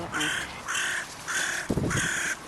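Crows in a garden give four loud, harsh caws at an even rhythm, fairly close, with faint background noise between calls.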